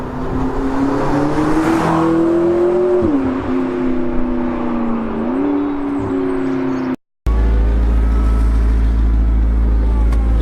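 A McLaren 650S Spider sports car pulls away, its engine droning loud and close while revs rise and fall through gear changes, then cuts out abruptly before a deeper rumble resumes.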